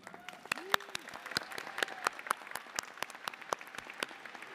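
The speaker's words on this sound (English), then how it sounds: "please join me in a round of applause" Applause at a 2023 high school graduation ceremony, a crowd clapping with sharp individual claps standing out over a steady patter, while a voice speaks over it.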